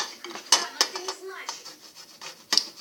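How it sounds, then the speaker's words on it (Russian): Cheese is rubbed on a fine grater in a home kitchen, making short, close rasping strokes with a few sharp metallic clicks, and someone speaks briefly in between. "надо натереть его на мелкой терке"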